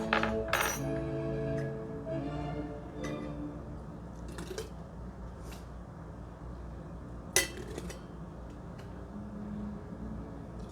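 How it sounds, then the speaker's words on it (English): Glass canning jars being filled with tomatoes, heard as scattered clinks and taps of glass and utensils with soft wet squishing in between, fairly quiet and close, with a sharper clink near the end. "let's go ahead and get to filling these jars here"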